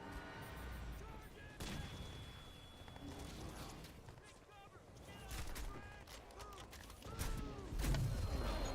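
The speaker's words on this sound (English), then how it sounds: "What even is this gun? Is it just a grenade launcher?" Grenade launcher firing in the shooter game Crysis 2, with several sharp, loud bangs spaced unevenly through the clip over a busy background of mechanical clatter and a short tonal whine early on.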